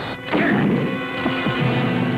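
A triple irons martial-arts weapon smashes in a 1993 kung-fu movie trailer: a loud, close crash followed by a few heavy whacking impacts, with no talking.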